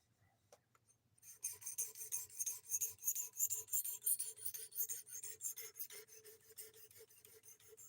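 Steady rasping strokes of a sharpening stone working the factory bevels on a Cold Steel knife, a quick regular back-and-forth rhythm, close and fairly quiet, with no one talking.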